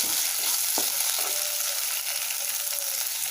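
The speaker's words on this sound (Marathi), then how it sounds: "तर आपण आता यामध्ये टाकूया शेंगदाणे कच्चे" Raw peanuts tossed into a pan of cooking tomato and potato, giving a steady close sizzle with a few soft stirring knocks.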